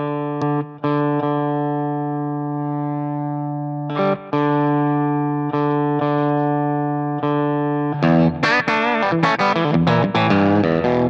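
Electric guitar through a Wampler Hot Wired v2 overdrive pedal with mild grit: sustained ringing chords that decay, several separate strums, then a busier run of picked notes near the end.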